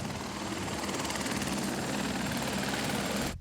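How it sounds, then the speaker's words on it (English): A helicopter flies close by in a loud, steady thrum of rotor and turbine noise that holds level for over three seconds and then cuts off abruptly. "He goes by helicopter,"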